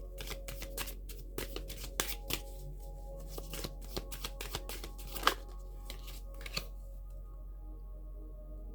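Tarot cards shuffled over and over in a quiet room, a steady run of crisp riffles and soft card slaps close to the mic, with no talking.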